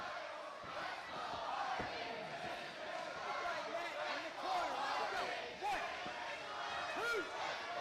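A wrestling arena crowd roars and chants steadily throughout a match between AJ Styles and Matt Hardy, a dense, continuous wall of cheering with shouts rising above it.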